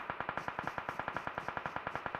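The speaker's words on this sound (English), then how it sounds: "RQ also receiving a lot of gunfire from Sem9 there." Rapid automatic gunfire from an esports video game match, a steady stream of evenly spaced, punchy shots repeating about ten times per second, loud and unbroken with no talk over it.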